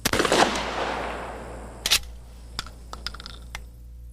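Shotgun slugs are fired for a law enforcement test: two loud, sharp blasts, the first with a long fading tail, followed by several fainter clicks and clacks of the action.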